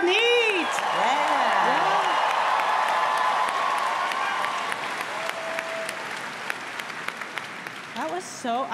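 An Adobe MAX Sneaks 2024 audience on stage-side breaks into sustained loud applause with whoops and cheers, a presenter speaking over it at the start before the clapping gradually thins out.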